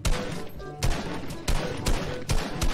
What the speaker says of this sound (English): Oh, I'm shooting at him.